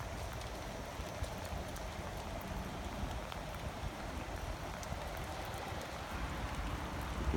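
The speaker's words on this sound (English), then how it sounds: "You can see it's quite a rainy day." Steady outdoor rainfall around a 2010 Peterbilt 388 tractor: a constant, even hiss of drops with no breaks and no voices over it.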